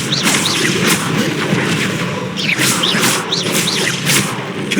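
Repeated Confringo blasting spell explosions in Hogwarts Legacy, loud booming blasts with whooshing tails landing one after another across a few seconds, close and forceful.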